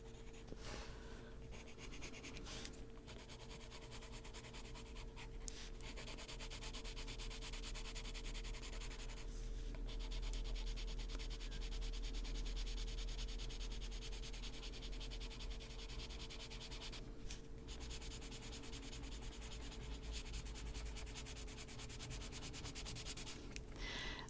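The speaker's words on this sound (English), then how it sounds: "That may sound scratchy on the microphone because it's closest to the pencil, but it's really pretty smooth on this paper." A colored pencil rubs and scratches across paper during coloring, a continuous close, soft rasp with small pauses between strokes, lasting the whole time with no talking.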